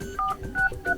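Keypad dial tones on a Vivo Y33s phone as a secret code is entered: three quick, clear tones in a steady rhythm, heard close and alone.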